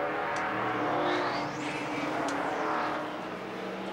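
NASCAR stock cars racing at Riverside International Raceway in the 1987 Winston Western 500, a steady loud roar of many engines running bunched together, with a couple of brief whooshing pass-bys.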